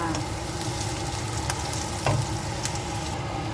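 Pre-boiled pork frying in a pan for ginisang bagoong alamang, a steady close sizzle with occasional light clicks of a spatula.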